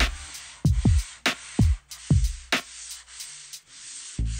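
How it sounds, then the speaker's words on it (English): 2K primer on a motorcycle tank is sanded by hand in brisk back-and-forth strokes, about ten rasping passes with brief pauses between, close and fairly loud, with no talking. "Now I will sand this 2K primer and apply the base coat and clear coat."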